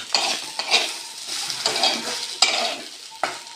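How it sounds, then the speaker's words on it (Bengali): Potatoes with poppy seeds, aloo posto, stirred in a pan at home: bursts of scraping and sizzling with utensil clatter, coming in uneven strokes, close by and moderately loud. "এটা কি রান্না হচ্ছে? পোস্ত, আলু পোস্ত।"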